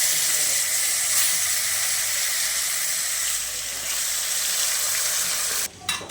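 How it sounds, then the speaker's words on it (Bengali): Dried fish frying in hot oil in a home kitchen pan, giving a steady, bright sizzling hiss that holds evenly close to the pan before cutting off abruptly near the end. "এখন মাছগুলো মা ভেজে নেবে"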